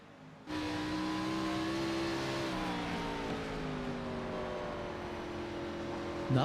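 A stock car engine in an Xfinity Series race at the Mid-Ohio road course cuts in abruptly and drones loud and steady, its pitch shifting gradually as it runs on, with no talk over it.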